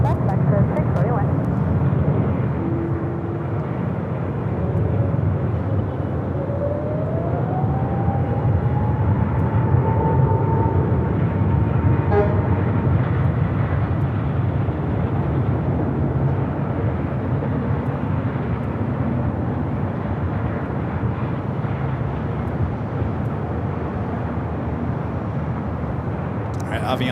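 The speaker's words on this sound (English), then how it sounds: "Avianca already rolling down at 24 left." An Avianca airliner rolls for takeoff on runway 24 left at LAX, a continuous distant engine roar heard alongside radio chatter and voices.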